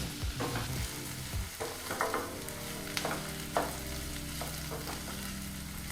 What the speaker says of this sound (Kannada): ಹೀಗಿಲ್ಲಿ ಈರುಳ್ಳಿನ ಒಂದು 3 ರಿಂದ 4 ನಿಮಿಷ ಲೋ ಫ್ಲೇಮಲ್ಲೇ ನಾವು ಚೆನ್ನಾಗಿ ಫ್ರೈ ಮಾಡಾಯಿತು